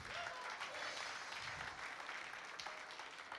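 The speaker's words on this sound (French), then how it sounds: "Applaudissez-vous." A church congregation in Chartres applauds in a sustained, even wash of clapping that sounds faint and distant, with no talk over it.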